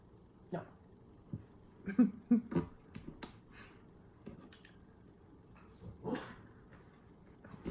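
A young puppy named Luna gives soft, brief whimpers and yips in scattered bursts, fairly close but faint, amid quiet background and occasional small clicks.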